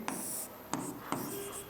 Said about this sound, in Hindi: तो यहां पर हम लिखेंगे